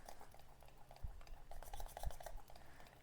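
A spoon stirs and scrapes through finger millet (ragi) brownie batter in a bowl, making soft, faint, close-up patters and clinks with two duller knocks against the bowl.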